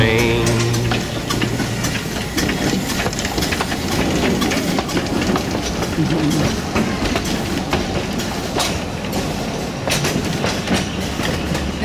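A train rolls steadily past close by in Boothbay Harbor, Maine, wheels clattering in a continuous rhythmic clickety-clack with a loud, rumbling body throughout.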